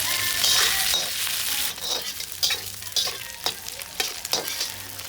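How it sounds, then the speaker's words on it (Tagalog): Meat sautéed in a pan for Lapaz-style pancit batchoy, a steady hiss of frying broken by repeated quick scraping stirs and a light clink. "Ginisa muna ang mga laman."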